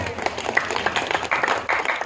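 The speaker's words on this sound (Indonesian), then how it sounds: "Tepuk tangan lagi buat Pak Lurah." A crowd claps steadily in a broad wash of applause at a village head's speech, with a voice carrying faintly over it.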